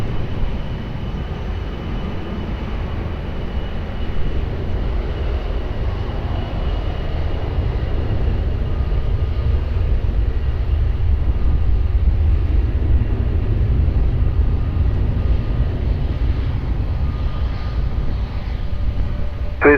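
An airplane taking off from runway 20 at Lisbon Airport, a loud steady jet engine roar that swells gradually, heard from a distance and continuing alone throughout.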